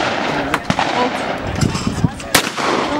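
Several sharp gunshot cracks ring out during target shooting, spread irregularly over a few seconds with one especially loud report near the end, set against steady outdoor background noise.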